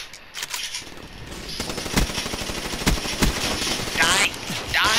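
Gunfire from an HVK-30 assault rifle in Black Ops 3 multiplayer, loud bursts of rapid automatic shots mixed with other game effects and scattered shots, while a player's voice talks over it.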